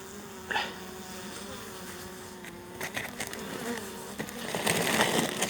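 A steady, dense buzzing of many hungry honeybees close by at a hive being fed syrup, with occasional louder bursts and faint rustling.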